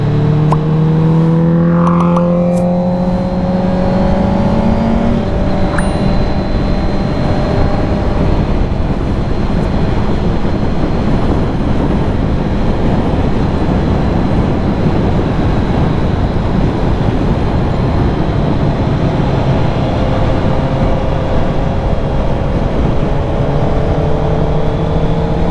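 Steady, loud engine drone and wind rush from Honda CB650R and CBR 650R motorcycles cruising on the road, with a shifting tonal whine early on and continuous riding noise throughout.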